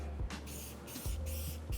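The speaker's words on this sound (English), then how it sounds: "you spray across the car like this." Three short hissing bursts of adhesive remover from a spray bottle, evenly spaced, close by, with a low mechanical hum underneath.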